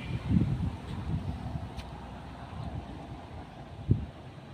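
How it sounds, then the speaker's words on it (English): Low, rumbling wind buffets the microphone steadily outdoors in Tagaytay City, Philippines, with a brief gust thump near the end; no voices. "So windy."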